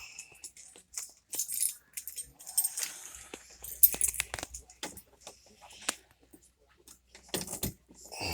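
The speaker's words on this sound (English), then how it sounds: "I'm going to get the keys out of my pocket." Keys jangle and clink as they are pulled from a pocket, close and fairly quiet, in a series of short metallic rattles with brief pauses between them.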